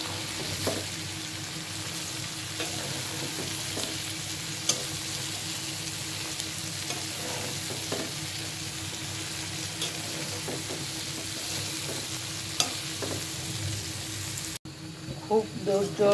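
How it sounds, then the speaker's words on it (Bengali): Sour mango pickle frying in a pan, a steady soft sizzle with occasional scraping taps as it is stirred, continuing throughout before a short quieter section at the end. "খুব ধৈর্য সহকারে আমি আচারগুলো ভেজে নিলাম।"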